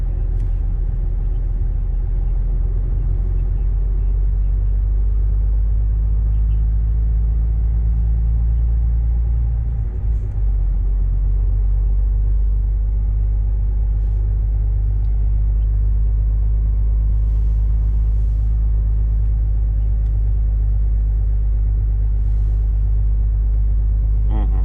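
A KrAZ truck rolls along in Krasnoyarsk, its engine a heavy, constant low rumble filling the cab, with people talking over it.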